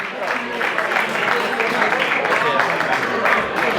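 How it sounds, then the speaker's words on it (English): A crowd at a Diwali ball applauds as honorees are called onto the stage, a sustained, fairly loud wash of clapping with a murmur of voices mixed in throughout. "round of applause for Meeta Harwani and Vinita Parmar."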